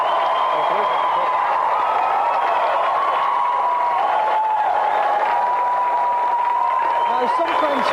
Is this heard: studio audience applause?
yes